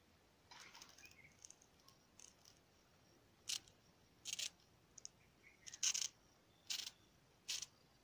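Scissors snip through paper while folding an origami banana chenda, a toy drum, giving a series of short, crisp cuts that grow sharper and more regular toward the end against an otherwise quiet room.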